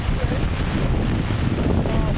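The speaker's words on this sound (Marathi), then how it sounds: "पाऊस जास्त असल्यामुळे दिसत नाही आहे पण समुद्र खवळलेला आहे" Rough sea and strong wind at Arnala beach on the coast by Arnala sea fort, under heavy rain, make a steady, dense roar of surf, gusts and rainfall that holds evenly throughout with no clear breaks.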